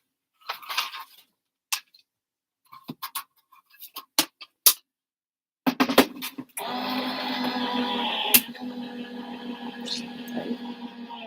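Card stock run through a crafting die-cutting machine: scattered clicks and handling taps, then a steady loud mechanical whirring hum as the card feeds through, with one sharp knock partway, no talk.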